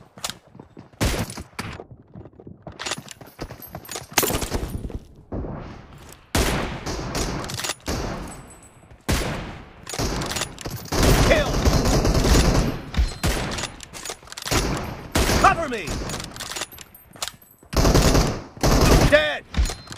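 M24 sniper rifle shots and other gunfire ring out in a shooter game, with sharp loud cracks spaced irregularly across the span, some in quick clusters, mixed with battle noise.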